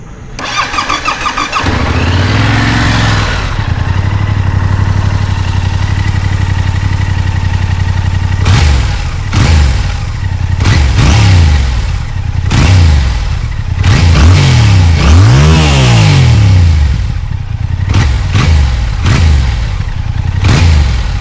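Yamaha R7 sportbike fitted with an Akrapovic carbon mid-pipe muffler, still with silencer and catalytic converter, starts up and idles, then gives a run of sharp throttle blips and revs rising and falling, loud and close with no talking.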